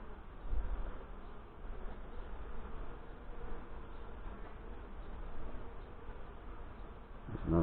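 Honey bees buzz steadily around an open hive during a June inspection, a dense, continuous drone that swells and eases without pause, close and fairly loud with no talking.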